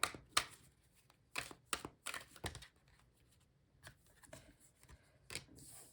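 Tarot cards being shuffled by hand in quick, crisp riffling bursts separated by brief pauses, close and fairly quiet in a calm room.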